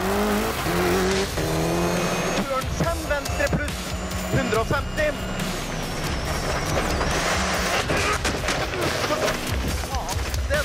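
Rally car at speed on a Rally Australia stage, engine roaring continuously with tyre noise, sharp impacts and rough rattling, a co-driver's pace-note voice cutting in over the loud, busy din.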